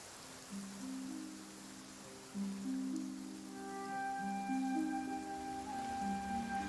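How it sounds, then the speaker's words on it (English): Steady rain falls in Genshin Impact, a broad even hiss running throughout, with soft tonal game music layered over it and no talk. "Why is it raining all of a sudden?"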